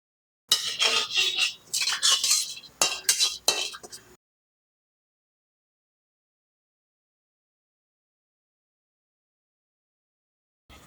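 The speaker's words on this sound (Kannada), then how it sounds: "ಈಗ ಕಡ್ಲಿಬೇಳೆ, ಉದ್ದಿನ ಬೇಳೆ ಫ್ರೈ ಆಗೈತ್ರಿ ಸ್ವಲ್ಪ." Chana dal and urad dal frying in a little oil are stirred with a metal spoon, giving a few seconds of close, brisk clinks and scrapes against the pan, followed by silence.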